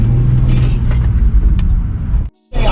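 A Nissan 350Z with a manual gearbox pulls away under throttle, its engine rumbling loud and steady from inside the car, then cutting out abruptly for a moment before resuming.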